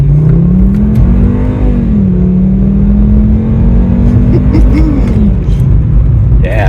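A Volkswagen Golf Mk VI engine in sport mode revs up and holds a loud, droning pitch as it accelerates hard, rising and dipping slightly, close and continuous.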